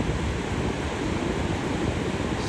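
Atlantic Ocean surf breaks on the shore as a steady, dense wash of noise, with wind buffeting the microphone throughout.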